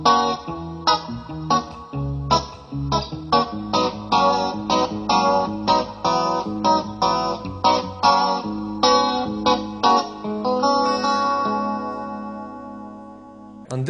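A Roland VG-99 patch that turns the four upper strings into guitar and the two lowest into a modeled bass plays a busy, rhythmic run of plucked chords over deep bass notes, loud and steady throughout.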